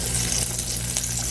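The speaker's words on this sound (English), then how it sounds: "dip it back in your alternative flour. before you put it in the hot oil" Chicken coated in alternative flour frying in hot oil, a steady loud hiss and crackle of sizzling close by, with no one talking.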